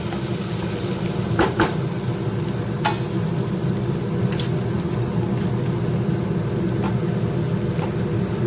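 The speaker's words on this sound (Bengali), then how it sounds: "আর এতে দেবো এবার গরম জল" Hot water poured into a simmering crab curry made with goat fat and potatoes, giving a continuous hissing, bubbling wash with a few faint clinks of utensils, close and steady.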